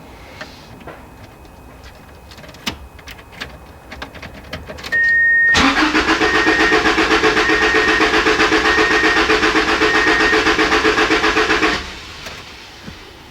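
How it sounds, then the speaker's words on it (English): A Subaru car engine cranks and catches at about five seconds, then idles loudly and steadily for roughly six seconds before shutting off, with no talking. "I'm going to start the car again and basically run it out of gas."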